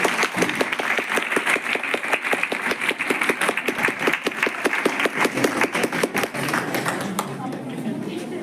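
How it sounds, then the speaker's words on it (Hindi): An audience claps loudly and continuously to welcome guests at a community workshop closing event, dense sustained applause from a nearby crowd that keeps going throughout and only thins slightly at the very end. "कृपया जोरदार तालियों से स्वागत कीजिए।"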